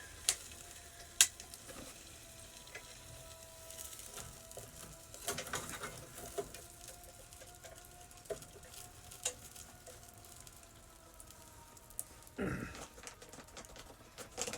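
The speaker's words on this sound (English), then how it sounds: "I hear the vegetables sizzling already." Vegetables and deer meat sizzle in a pie iron inside a hot tent, a faint steady crackle under low background hiss with scattered clicks and pops, close but quiet.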